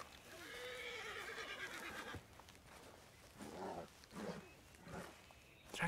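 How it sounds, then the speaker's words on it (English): A horse neighing in the video game Red Dead Redemption 2, a long loud whinny followed by snorts and restless hoof sounds. "¡Caballo, caballo!"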